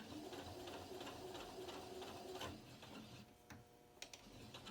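A sewing machine stitches through a rope dog pull toy with a quiet, steady whirring run that slows and stops, followed by a few faint clicks.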